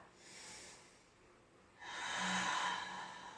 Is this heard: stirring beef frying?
no